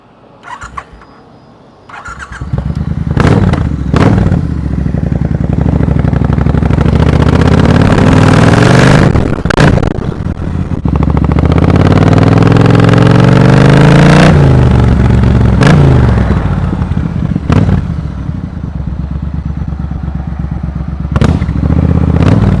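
A Triumph T120 motorcycle with a loud aftermarket Zard exhaust revs hard several times, sharp throttle blips between long roaring bursts, close and very loud.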